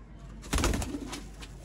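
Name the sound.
pigeon cooing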